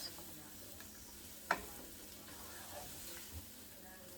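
Onions and peppers sauté in a pan, a faint steady sizzle with one sharp clack of the pan or utensil partway through and a couple of softer knocks later.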